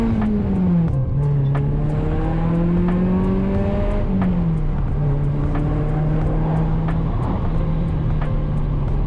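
A Peugeot 106 GTI with an aftermarket exhaust drones loudly and steadily, its engine note holding a fairly constant pitch with a slight dip and recovery, close and alone with no talk.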